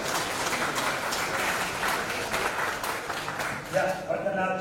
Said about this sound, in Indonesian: Tepuk tangan dong bagi panitia.